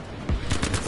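Distant automatic gunfire crackles in a rapid burst over a steady noisy background in a war shooter game with the Tirailleur mode, loud and dense for about a second.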